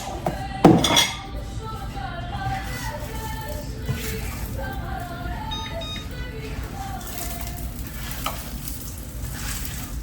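A spatula scraping and pushing breakfast burrito fillings, including eggs, around a hot pan, opening with a loud metallic clank, then repeated scrapes and clinks over a steady sizzle, with someone talking at times.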